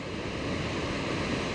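Steady broadband rush of the North Fork of the Feather River flowing below Poe Power House, a dense continuous roar with no pauses and no voices.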